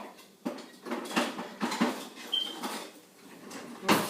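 Rice goes into a pan and is stirred, giving a series of light scraping and rattling clicks in an irregular rhythm, close up and fairly quiet, with no talking.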